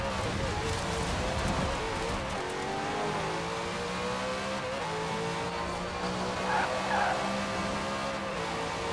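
A 900-horsepower car in Forza Horizon 4 accelerates hard, its engine whine climbing through rising gear sweeps with brief tire squeal, loud and continuous under faint background noise.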